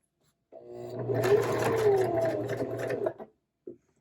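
A sewing machine runs a single steady burst of stitching on a lined zipper pouch for about two and a half seconds. It is close and moderately loud, then ends with a brief click.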